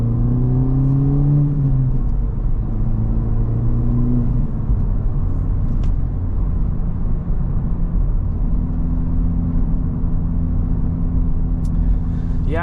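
A Honda Civic Type R FL5 with a front resonator delete and its exhaust valve open drones steadily from inside while driving, the engine rising in pitch through gears over a constant road rumble.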